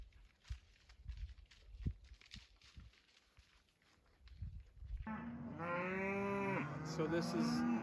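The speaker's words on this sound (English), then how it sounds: "So this is what we get to listen to all night. There's 150 cattle here in this pasture." A herd of about 150 cattle in a South Dakota pasture at night, bellowing in long, loud, drawn-out moos that rise and hold, following several seconds of faint rustling and footsteps.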